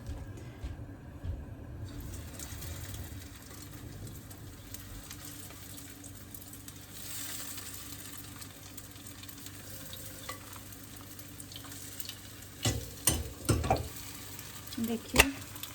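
Food frying in oil in a pan at home, a steady low sizzle for most of the stretch, then louder bursts of stirring and scraping toward the end, with no voices.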